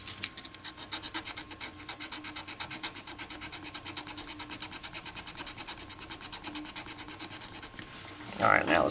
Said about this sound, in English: You can tell I did a little more sanding on this piece.